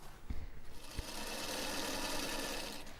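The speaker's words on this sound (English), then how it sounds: "I'm sewing across using a 1/4 inch seam or a little bit bigger." A sewing machine runs steadily, stitching a quarter-inch seam across recycled denim jeans, preceded by a couple of short knocks, then a continuous whirring hum that holds at a moderate level.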